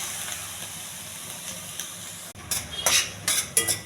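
Boiled horse gram with a green chili, turmeric and chili powder tempering being stirred in a pan, giving a few scraping, clattering strokes of a utensil over a soft hiss, louder toward the end.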